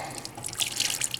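Water trickles and spatters as it drains from a homemade wood gasifier system, a short burst of splashing that grows louder toward the end.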